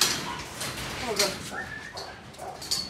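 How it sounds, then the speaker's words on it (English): Female pit bull whimpering and yipping in short high-pitched bursts close by, mixed with a few soft barks, while people talk nearby. "She's a small dog. You know, she's not small for a pit bull."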